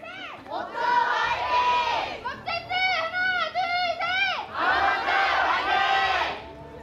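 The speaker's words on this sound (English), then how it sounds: "Very vocal audience here for WGS Armament." Esports audience at an Overwatch World Cup match in Korea cheering for WGS Armament, loud bursts of crowd chanting and rhythmic shouting in waves, with a pulsing chant in the middle between swells of roaring cheers.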